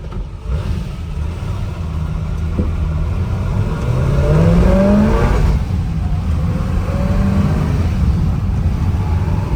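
A 1969 Chevrolet Camaro Z28, barely driven since 1971, cruising on the road, its engine droning with an interior rumble and rising revs as it accelerates, a steady loud mechanical hum throughout.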